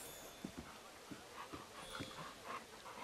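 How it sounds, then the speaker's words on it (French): Dogs in the video game Assassin's Creed Unity pant and give soft whimpering yelps amid faint game ambience, the sounds quiet and scattered across a few seconds. "Oh les chiens."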